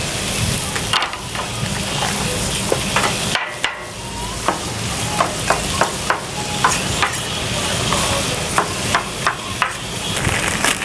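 Chicken stir-fry sizzling hard on a big 55-pound griddle used as a giant wok, a steady loud frying hiss broken by a string of sharp metal spatula taps and scrapes.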